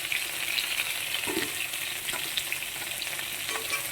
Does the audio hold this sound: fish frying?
yes